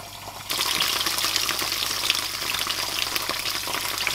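Curry ingredients frying and spitting in a hot pan for a Malaysian chicken curry, a loud steady sizzle that bursts in after a brief quieter moment and keeps crackling with scattered pops throughout.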